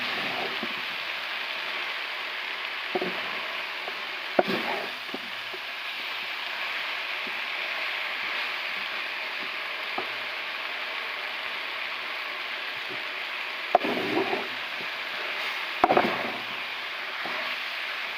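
Chopped okra slowly fries down in a pan for a sour jelly chutney, a soft even hiss broken by a few sharp spatula scrapes and knocks, heard alone.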